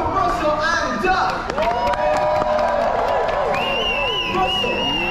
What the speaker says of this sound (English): Give a big round of applause for Russell and Doug!